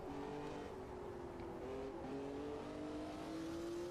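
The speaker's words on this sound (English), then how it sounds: "we want to use our Cosworth DFV to move past that ensign of the New Zealander and the BRM of Evans" A 1975 Formula One car with a Cosworth DFV engine racing in Automobilista 2 at South Africa, its engine note droning steadily at high revs with slight pitch shifts as it shifts, loud and continuous with no talk.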